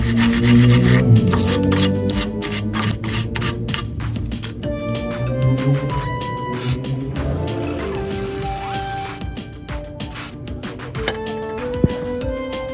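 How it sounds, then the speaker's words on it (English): Rough rubbing and rasping as the threaded stud under the bottom nut of a Ford Fiesta rear shock absorber is cleaned, continuous close scraping strokes over a steady tonal background. "You need to clean this thread and apply WD-40."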